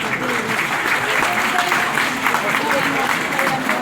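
School fancy-fair audience applauding the school committee members as they are called up, a continuous, even wash of clapping from a sizable crowd, with a voice faintly audible underneath.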